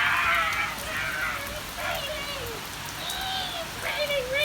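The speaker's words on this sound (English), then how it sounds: "Take her out there in the rain." Rain falls outdoors as a steady broadband hiss with patters, while voices and bird-like chirps or squeaks sound intermittently above it at close range.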